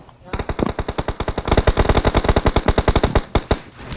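Rapid automatic gunfire from a video game shooter, a long burst of evenly spaced loud shots with a brief pause, then a few final rounds, with little talk.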